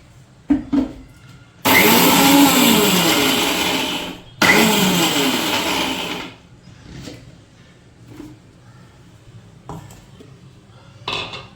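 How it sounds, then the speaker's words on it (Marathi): A mixer grinder grinds cooled roasted onion for homemade kala masala in two loud bursts of roughly two to three seconds each. Quieter clinks and handling noises fill the gaps between and after the bursts. "आता हा कांदा थंड झालाय. आता याला आपण वाटून घेऊया."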